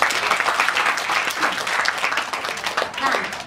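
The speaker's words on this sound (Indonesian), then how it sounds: "Oke, tepuk tangan teman-teman" Friends applaud during a model search casting session, a dense patter of clapping mixed with crowd chatter and voices throughout.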